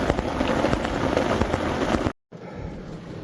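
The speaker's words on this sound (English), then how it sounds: "See how much it's raining out there." Heavy rain pours steadily outdoors over a garden, a loud, dense hiss of drops that cuts out abruptly for a moment before resuming slightly softer.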